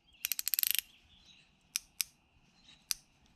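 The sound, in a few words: General ratchet wrench clicking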